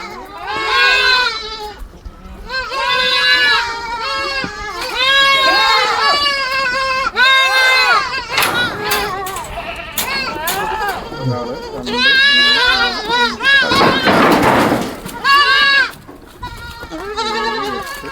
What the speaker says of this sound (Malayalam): ഒക്കെ മലബാരി ആടുകളാ